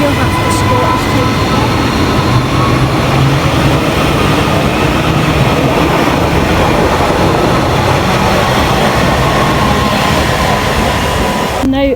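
Class 320 electric train 320-414 terminates at Motherwell station, its loud steady rumble and rail noise filling the platform continuously, with a brief clatter at the very end.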